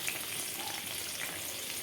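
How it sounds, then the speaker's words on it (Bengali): Potatoes frying in hot oil with tempering spices and a little turmeric in a wok give a steady, soft, continuous sizzle with no voices. "সব আলুগুলো আমি কড়ার মধ্যে দিয়ে দিলাম, ফোড়নের মধ্যে দিয়ে আলুগুলো দিয়ে একটু সামান্য হলুদ দিয়ে দিলাম।"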